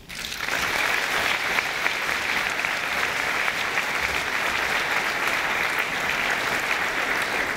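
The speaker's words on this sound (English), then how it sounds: "keep applauding for our inductees for 2012" Sustained applause from a large standing audience at a 2012 induction ceremony, a dense steady roar of clapping that rises quickly and holds throughout.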